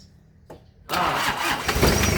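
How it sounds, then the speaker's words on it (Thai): A car engine catches and starts after a brief crank, jumping from near silence to a loud, steady running roar that carries on, close by and alone. "สตาร์ติดนะครับสตาร์ติด"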